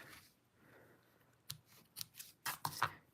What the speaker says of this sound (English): We'll snip this one off.